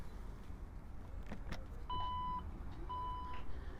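A 2018 Porsche Cayenne power tailgate closes at the press of a button, giving two short electronic warning beeps over a low motor hum and a faint thud, with no talking.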